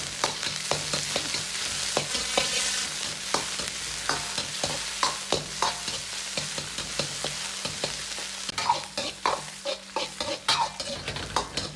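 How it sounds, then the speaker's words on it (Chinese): Pork belly stir-fries in a wok with a little scallion oil, a continuous sizzle cut by quick, rhythmic scrapes and clinks of the spatula against the pan, close and alone. "炒至五花肉稍微发黄出油脂"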